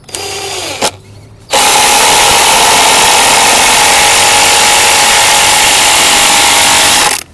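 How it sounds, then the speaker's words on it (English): An electric drill whirs in a short burst, pauses, then runs long and loud at a steady pitch before cutting off abruptly. "I'm really leaning all of my weight onto this drill"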